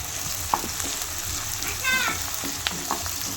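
Chopped capsicum fries in a pan for hot garlic chicken, a steady close sizzle broken by a few light clinks and a brief squeak as the pieces are stirred, with no one talking.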